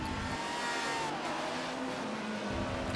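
A field of racing cars roars past in a racing video game at Silverstone, a sustained engine drone with shifting pitch as the pack sweeps by, steady and moderately loud with no talk.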